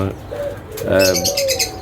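Pigeons at a pigeon farm, with nesting pairs and fresh eggs, give soft low coos and brief chirps. Near and moderately loud, with some wing movement and a short burst of calling in the middle.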